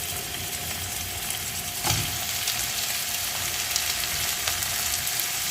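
Soaked potato pieces hit hot oil with garlic in a pan, setting off a loud, steady sizzle with a brief burst as they drop in, then continuous crackling frying.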